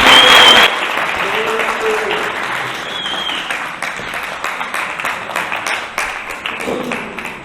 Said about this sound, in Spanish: vamos a dar un aplauso a Álvaro Martín.